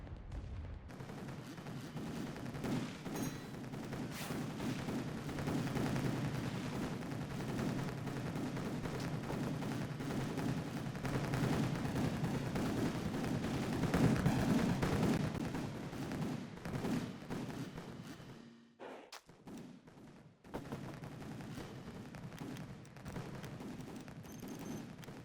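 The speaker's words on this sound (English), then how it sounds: "I'm gonna spam artillery. I'm gonna just spam my tanks out like this." Dense, continuous artillery and tank gunfire rumbles through a Rise of Nations battle, with overlapping booms forming a steady barrage that drops away briefly near the end before resuming.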